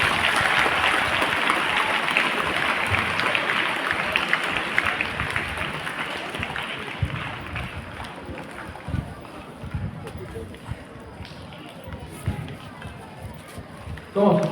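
An audience clapping at a school event, sustained crowd applause that starts loud and gradually thins out, with voices and cheers mixed in.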